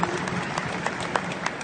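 Audience clapping at a stage event for the organizers, a short burst of dense applause with a few sharper claps standing out.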